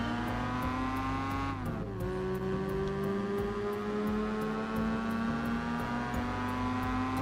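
Mazda RX-8 rotary engine in Gran Turismo 4, tuned with stage 1 weight reduction, droning steadily at high revs with a pitch drop around a gear shift, then climbing again under a constant loud hum.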